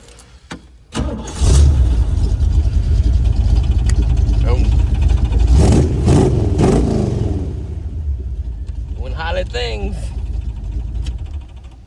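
An old Buick engine cranks and fires up, settling into a loud steady run close by, with revs rising and easing and people talking over it.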